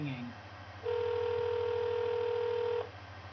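A telephone call rings out on a handset as a single long, steady electronic tone lasting about two seconds, loud and clear over a faint background hum, with a few brief soft sounds before it.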